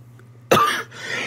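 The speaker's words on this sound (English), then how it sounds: "I'm just coughing again" A single harsh cough from a person with bronchitis bursts out close up, followed by a brief raspy breathy tail, over a faint low hum.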